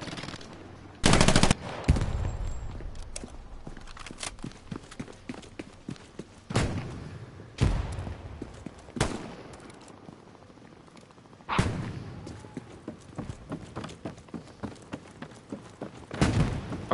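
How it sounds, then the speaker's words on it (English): Gunfire and grenade blasts in the World War II shooter Hell Let Loose: several loud, sharp explosions spaced through the stretch, with irregular bursts of rifle and machine-gun fire crackling between them. "Enemy right there. Throwing a grenade."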